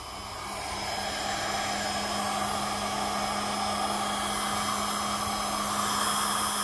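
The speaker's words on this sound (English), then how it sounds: "Warm air blower. Give it a second to warm up." A warm air blower runs steadily on its own, drying freshly cleaned old coins such as a 20 shilling piece, with a constant airy whoosh and a low motor hum that swells slightly as it warms up.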